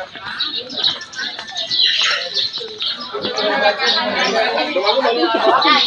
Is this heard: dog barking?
no